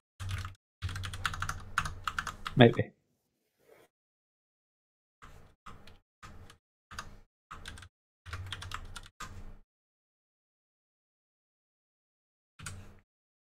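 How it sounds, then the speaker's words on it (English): Bursts of computer keyboard typing come in quick clattering runs separated by silent pauses, close and fairly crisp, with a single short word spoken once in between. "your keyboard doesn't make different noises for each of the keys"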